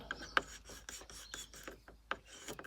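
A car stereo volume knob is pushed in and turned after contact cleaner has been sprayed into it. It gives soft, close raspy clicks in an uneven ratcheting rhythm, with a few sharper ticks.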